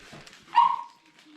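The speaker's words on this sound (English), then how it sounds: "What are you barking at?" A pet dog gives a single short, sharp bark from somewhere across an indoor kitchen, brief and moderately faint against a quiet room.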